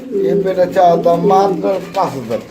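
A running breeding pair of Pomeranian pouter pigeons coos up close in short, throaty bursts, partly under a voice talking nearby.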